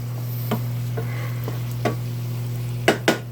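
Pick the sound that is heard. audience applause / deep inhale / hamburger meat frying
hamburger meat frying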